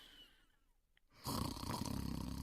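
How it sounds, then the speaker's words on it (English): After a near-silent moment, a father's loud, rough snoring starts up in his bedroom, a rasping drone that keeps going steadily and close by. "He is snoring in his bedroom."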